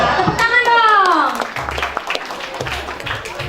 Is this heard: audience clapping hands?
yes